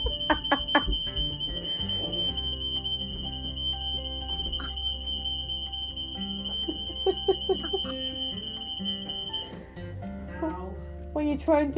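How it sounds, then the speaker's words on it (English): A kitchen smoke alarm, set off by cooking chicken tikka, sounds a steady, piercing high tone for most of the stretch, then stops abruptly near the end while people keep talking over it. "your partner sets off the fire alarm"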